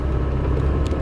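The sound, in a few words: faulty car stuck in low gear while driving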